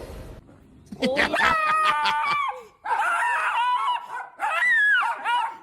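A leashed dog yelps and barks in a rapid run of high, strained cries, close and loud, breaking off briefly before two more bursts of excited yipping.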